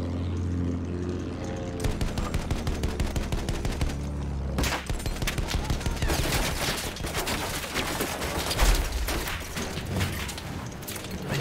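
Battlefield 1 combat brings dense machine-gun fire and rapid volleys of shots, loud and continuous with overlapping bursts over a low engine drone, with no talk.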